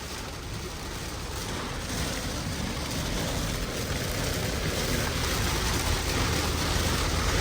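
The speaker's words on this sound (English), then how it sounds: "it's raining like crazy" Heavy rain drums steadily on a moving Cadillac Lyriq electric car, a dense, even wash of noise that holds at constant loudness with no talking.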